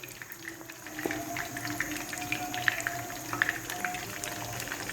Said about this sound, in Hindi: ये देखिए, मैं एक एक कोफ्ता उठाती जाऊँगी और पैन के अंदर डालती जाऊँगी। लो फ्लेम पे हम इनको फ्राई करेंगे।